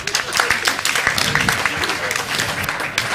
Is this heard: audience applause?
yes